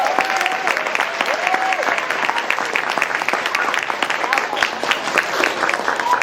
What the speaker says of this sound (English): Can I get a round of applause for the teachers?